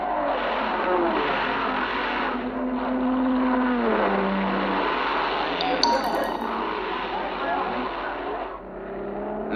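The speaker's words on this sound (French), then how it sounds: "La voici donc, cette voiture de tête, la Ferrari numéro 14 de Hill, Jean Debien." The leading 1959 Ferrari, car number 14, races at night at Le Mans, its engine droning and passing at a steady mid distance while someone talks over it throughout.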